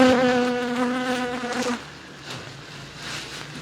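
Honeybees from a colony being transferred into a hive buzz steadily with a strong, close tonal drone that fades after about two seconds into a softer, scattered hum, with no voices.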